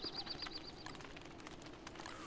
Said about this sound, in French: Ah! Ça attire les oiseaux.